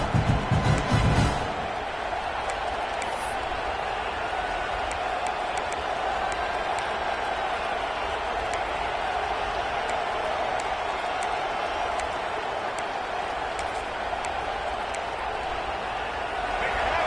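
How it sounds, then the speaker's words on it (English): A stadium crowd in the College Football 26 video game roars in a steady, dense wash of cheering behind a red-zone defensive stand, with a brief louder burst at the start. "The crowd getting behind this defense as they try to get a stop in the red zone."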